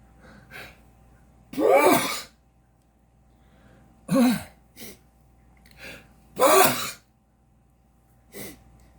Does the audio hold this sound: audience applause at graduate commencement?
no